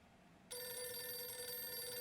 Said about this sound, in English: The idea of the TARDIS phone ringing.